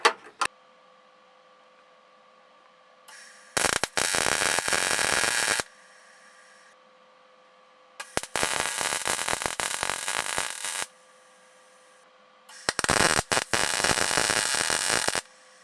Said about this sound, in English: I'll weld this 2x3 across